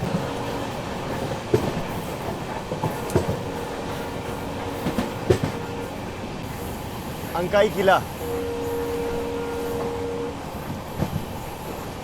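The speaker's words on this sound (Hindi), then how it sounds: "देखिए फिलहाल हमारी ट्रेन अंकाई हिल रेलवे स्टेशन स्किप कर रही है।" A passenger train on the Hazur Sahib Nanded to Delhi route runs steadily through Ankai railway station without stopping, its continuous rumble and wheel clatter heard from onboard, with a person talking over it.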